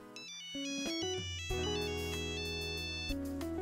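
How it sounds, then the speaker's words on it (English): A bright electronic phone ringtone plays a tinkling melodic pattern of repeating tones, clear and alone with no voices. "A ringtone could be heard nearby"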